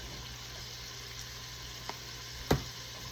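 Meat seasoned with smoked paprika and garlic powder sears in a hot pan, giving a steady close sizzle with a couple of brief clinks near the end.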